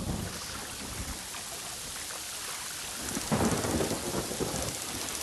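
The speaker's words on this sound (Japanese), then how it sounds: "なんか嵐になってる。" Stormy weather in the Yonder video game: heavy rain hisses steadily, and thunder rumbles low beneath it and swells louder partway through. No voices are heard.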